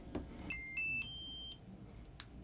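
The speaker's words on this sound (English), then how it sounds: "the instrument will alert you through a tone" A bench-top SL1000 portable parallel analyzer gives its completion alert: a short series of faint electronic beeps, a couple of held tones over quiet room noise.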